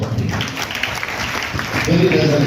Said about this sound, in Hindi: इखरा बॉयज के लिए जोरदार तालियां।